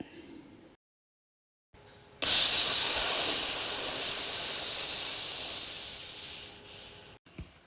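After a quiet moment, a loud sizzle bursts out as hot oil tempering is poured into a yogurt curry, hissing strongly and then gradually fading.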